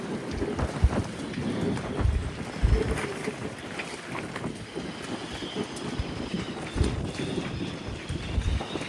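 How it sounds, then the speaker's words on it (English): A rain shower drums steadily on a sailboat, with dense hiss of rain, low thumps and rumbles of wind and hull, fairly loud and continuous without speech. "I'll wait for this rain shower to go through and then head home."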